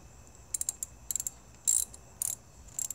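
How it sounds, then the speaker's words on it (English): A ratchet wrench tightens a battery terminal bolt on a Toyota RAV4, giving quick bursts of dry clicking with short pauses between strokes, close and fairly quiet. "Now tightening this terminal on."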